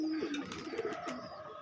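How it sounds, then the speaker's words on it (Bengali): Pigeons coo softly nearby, a few low, rounded throaty coos over a quiet background, with no voices. "আমি পায়রা ছেড়ে দেবো, যেরকম পায়রা সেরকম দাম হবে।"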